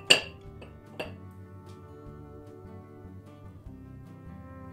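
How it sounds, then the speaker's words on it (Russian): Lids are set onto clay pots holding pelmeni. Two sharp ceramic clinks, then a faint low hum continues alone. "Закрываю горшочки крышечками"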